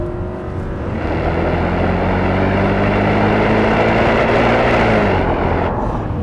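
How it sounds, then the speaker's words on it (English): An Audi S8 with a naturally aspirated engine, its hard-edged induction noise rising into a loud, sustained rev that holds steady for several seconds before easing off near the end. "that hard-edged, naturally aspirated induction noise is just, oh"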